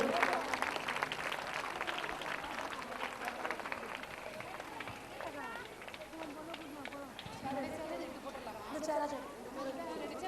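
Audience applause at a school event honoring police, a steady wash of clapping mixed with crowd chatter and voices throughout, fairly distant and sustained.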